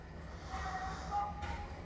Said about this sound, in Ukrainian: Трамвайчики гудять